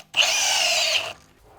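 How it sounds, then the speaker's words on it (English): A power drill spins a hub grinder against a BMW X5 front wheel hub, cleaning the mating surface during a brake pad and rotor job; one steady loud whirring grind lasting about a second, then it stops. "This is a hub grinder, so we'll just take it on our drill,"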